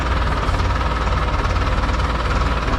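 A tractor engine runs steadily nearby with a loud, even, pulsing rumble and no voices over it.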